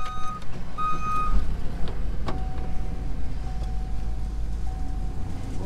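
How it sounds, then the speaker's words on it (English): A Case SV340 skid steer working through woods while thinning tree lines, its steady diesel engine drone close and loud throughout, with brief beeping tones near the start. "That case skid steer is a beast."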